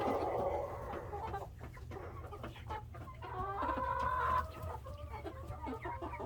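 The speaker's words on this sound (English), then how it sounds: "That's a rooster for sure." Chickens in a pen on a rainy day, with a rooster clucking repeatedly up close through a steady low background hum.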